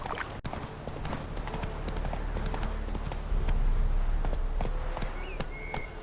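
Hooves of the horse Roach pound in a quick, rhythmic galloping clip-clop in The Witcher 3 game, steady and fairly close over a low rumble of movement, with no voices.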